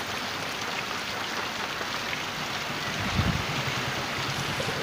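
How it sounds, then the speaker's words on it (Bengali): Steady rain hisses down during a sudden strong storm after a heatwave, a dense continuous wash of drops with no break. "হঠাৎই করে তীব্র ঝড়ের সঙ্গে তোমার বৃষ্টি"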